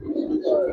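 A short, soft burst of low pigeon cooing from a loft of khaki and silver pigeons, a close rolling murmur with faint background hum.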